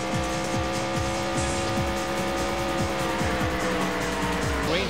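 Race cars in a PS1 racing game roar at full throttle, with layered engine whines and repeated gear-shift drops and a loud, continuous rush of several cars close together.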